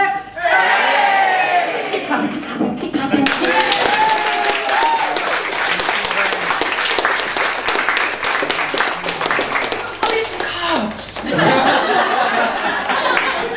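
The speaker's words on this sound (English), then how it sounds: "Keep clapping." A crowd at a 40th birthday gathering claps and applauds steadily and loudly, with cheers and shouts over the clapping and some laughter and voices mixed in.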